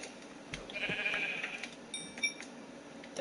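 Sheep bleating in a Minecraft-style survival game, two or three short nasal bleats close by over quiet background, with no talking.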